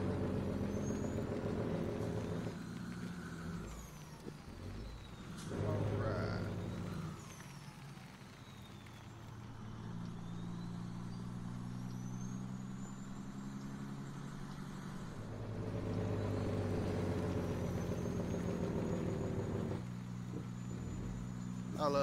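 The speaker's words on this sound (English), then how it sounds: "I love that downshift." Heavy truck engine in the Farming Simulator 17 game revving and dropping through gear changes, loud and close, with a hiss like an air brake midway and a voice talking over parts of it.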